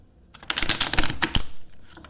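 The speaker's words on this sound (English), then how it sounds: "just kind of shuffle them up a little bit" A tarot deck shuffled by hand, a quick burst of papery riffling and card snaps lasting about a second, close and crisp after a brief quiet start.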